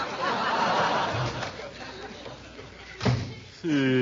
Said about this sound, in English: No, Bessie, go out and close the door.